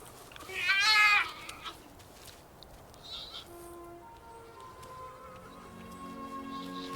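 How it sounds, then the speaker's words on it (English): Young black bear cubs in the Canadian wilderness, near their mother, make a soft purring with a louder bleating cry early on, then quieter, steady humming tones that continue to the end. "the young mother's cubs purr with contentment."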